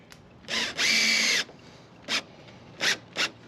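A hole is drilled in a kayak rear deck with a power drill, one short burst and then a longer, loud whirring run, followed by three brief bursts, with no one speaking.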